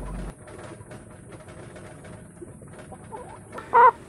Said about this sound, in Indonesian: Yang ini jenis ayam Isabron, yang ini Lohman.